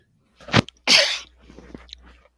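A single sharp sneeze bursts out, followed by a short rustle and faint mouth sounds, close to the microphone.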